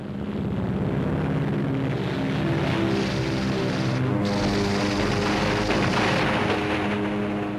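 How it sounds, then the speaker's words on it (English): Piston-engine aircraft drone of P-38 Lightning fighters flying, a steady loud multi-toned roar with throbbing harmonics that holds throughout. "we were able to send up a flight of P-38 Lightnings and shoot him down"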